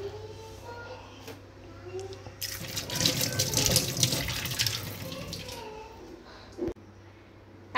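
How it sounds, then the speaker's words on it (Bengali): Kitchen sink tap running for a few seconds while dishes are washed, a steady close splash that starts abruptly and stops, with faint household noise around it and no clear talk. "সিঙ্কে যত বাসন কুসন ছিল সেগুলো সব মেজে ধুয়ে রেখে দিয়েছি"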